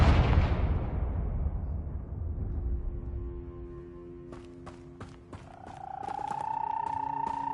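Confringo blasting spell in the Hogwarts Legacy video game, a loud burst at the start decaying into a rumbling tail, followed by sharp clicks and a rising magical ringing tone.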